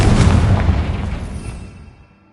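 A Confringo fire-blast spell explodes in Hogwarts Legacy, a loud booming burst at the start that rumbles and fades away over about two seconds.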